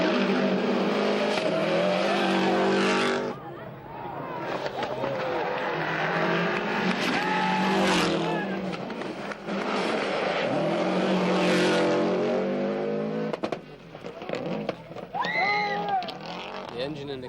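Subaru Impreza rally car at the 1995 World Rally Championship, its detuned engine revving and racing loudly and continuously, gear changes rising and falling, with talk layered over much of it.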